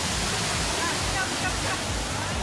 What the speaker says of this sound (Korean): 위에서는 폭포가 쏟아져 내려오고 예, 아래에서는 분수대가 치솟기 때문에